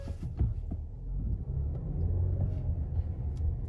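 Low rumble of a Hyundai Palisade SUV engine as it pulls away in drive, steady and close without a sharp rev, with no talking.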